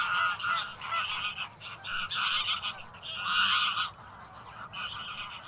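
Geese honking in a marsh during winter migration, a dense, continuous chorus of many overlapping calls rising and falling in waves, loud and fairly close, with no talking.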